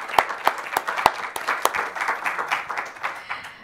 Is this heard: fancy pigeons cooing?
no